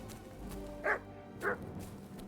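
A dog in the Kingdom Come: Deliverance II video game gives two short, quiet barks about half a second apart over a soft game background.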